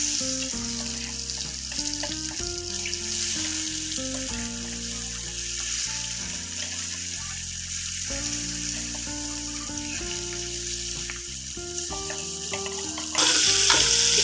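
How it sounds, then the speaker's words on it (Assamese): Fish rubbed with turmeric sizzles and spits steadily in a little hot oil in a wok, a continuous loud frying hiss with occasional stirring, no voices. "এতিয়া মই মাছখিনি ফ্ৰাই হ'বলৈ দিম।"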